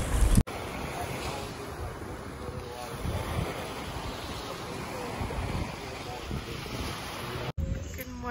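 Ocean waves wash onto a beach at sunrise, a broad, steady roar of surf mixed with gusty wind buffeting the microphone, continuous throughout with brief cuts near the start and end.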